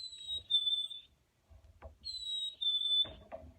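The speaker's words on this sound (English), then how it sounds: "Or you might hear a chickadee." Two clear whistled chickadee calls, each a high sustained note that drops slightly in pitch, separated by a short pause with faint background rustle.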